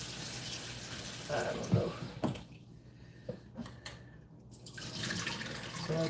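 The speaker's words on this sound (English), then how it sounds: "Then I just come back and I rinse my vegetables off good too" Vegetables rinsed under a running kitchen tap, a steady close hiss of flowing water with brief splashes and a short quieter stretch midway, while a voice speaks briefly.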